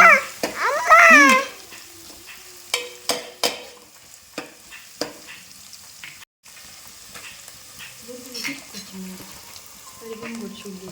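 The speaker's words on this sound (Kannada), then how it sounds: "ತುಪ್ಪ ಐಕ್ ನೀರುಳ್ಳಿ ಬೊಕ್ಕ ಚಕ್ಕೆ ಪುಡಿ ಏನು ಪೂರ ಪಾರ್ದು ಫ್ರೈ ಮಾಡ್ತಂದು" Onion and cinnamon powder fry in ghee with a steady close sizzle, punctuated by several sharp stirring scrapes and clinks; a voice babbles briefly near the start and again toward the end.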